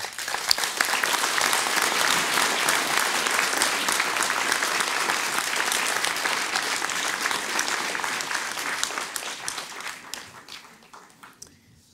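Sustained audience applause for municipal workers at a mayor's New Year address in Palaiseau, a dense steady wash of many hands clapping for about ten seconds, then thinning and fading near the end.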